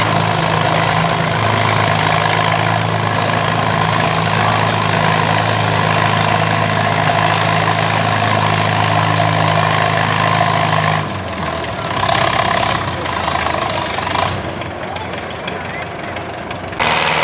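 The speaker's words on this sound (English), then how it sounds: "David Brown's going." David Brown tractor engine running nearby at a fair, a loud steady idle with a droning low hum that drops away partway through, leaving a rougher, lower engine rumble.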